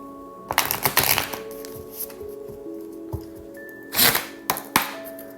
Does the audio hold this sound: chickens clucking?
no